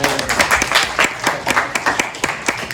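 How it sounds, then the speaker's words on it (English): An audience at a school event in Yarm gives a big round of applause, a steady burst of clapping close and loud, with little talk over it. "Big round of applause."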